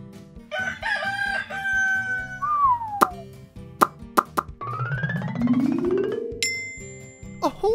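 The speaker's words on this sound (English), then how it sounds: "A rooster!" A rooster crows once in a long rising call over a busy children's farm-animal soundtrack of plops, chimes and jingly music; no talking is heard.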